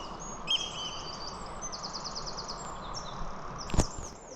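Bird calling by a river during a fishing session, repeated thin high-pitched chirps and trills over a faint steady outdoor background, with a sharp brief knock near the end.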